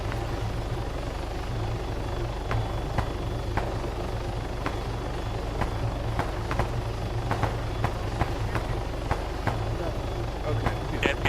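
Helicopter in the Arma 3 video game, a steady low rotor and engine drone running throughout with sharp clicks and sounds scattered over it, voices talking in the background.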